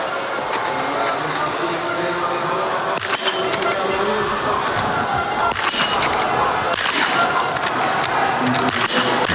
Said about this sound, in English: 5 nice steady shots, all of the targets going down.